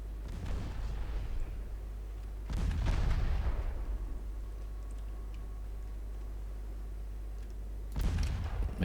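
Heavy warship main guns fire in the naval strategy game Ultimate Admiral Dreadnoughts, with a booming salvo around three seconds that rolls away into a long rumbling tail, another heavy blast arriving near the end, over a steady low engine drone.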